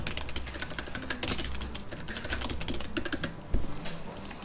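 Fingers type rapidly on a computer keyboard while drafting in AutoCAD, a dense run of close clicks and taps with one heavier keystroke near the end.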